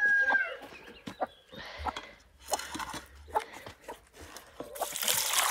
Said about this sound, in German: Ich muss nur Wasser geben für die Hühnerchen, weil die Glucke ist aufgestanden